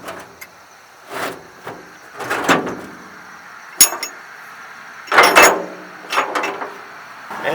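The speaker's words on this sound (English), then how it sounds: "So I'm going to put the jack in." A car jack is loaded into a storage compartment of an antique truck, with irregular metallic clunks, scrapes and knocks at uneven intervals, close and fairly loud, separated by short quiet gaps.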